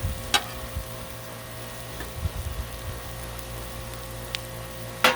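Butter melts and sizzles on a Blackstone griddle cooking Cajun fried rice with shrimp, a soft steady frying hiss with a few faint clinks and scrapes, close by and without talk.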